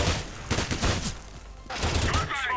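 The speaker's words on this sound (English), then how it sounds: "Not only was he preemptively firing through that corner, but they were both headshots" Gunfire in the video game CS:GO, with a few sharp shots and short bursts cutting through a busy game backdrop, partly under a commentator's voice.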